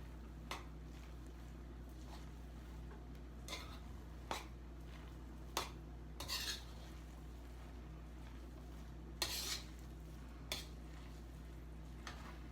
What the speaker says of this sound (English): you're stirring to make sure that the rice doesn't burn